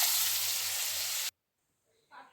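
Food sizzles loudly in a kadai (wok) for just over a second, a dense broadband hiss that stops abruptly, followed by near silence and a faint brief rustle near the end.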